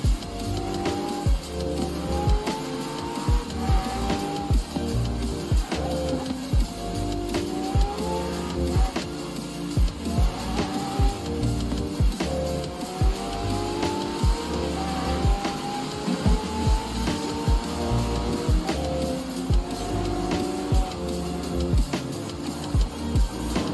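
McLaren Senna hypercar in Forza Horizon 4 racing at high speed, its engine note rising and falling through repeated gear changes with tire noise, loud and continuous with no talk.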